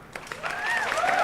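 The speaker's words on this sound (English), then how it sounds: "an audience cheering very loudly" Prerecorded cheer sound file of an audience cheering loudly, swelling from scattered claps into a dense, sustained crowd roar with whoops over about a second.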